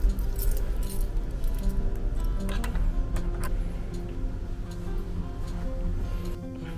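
A hotel room key at a hot spring inn in Kaminoyama Onsen, Yamagata, jangles and clicks close up in repeated metallic chinks while a door is opened, over low background noise.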